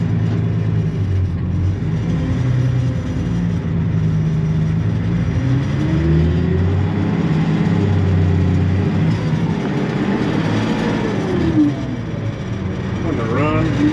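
An orange tractor's engine runs steadily with a low, continuous rumble while the machine drives, loud and close throughout, with a slight rise near the end.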